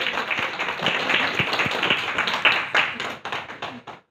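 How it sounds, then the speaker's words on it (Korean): A small group in a church congregation claps together for a few seconds, the claps dense at first and then thinning out and stopping. "박수하겠습니다."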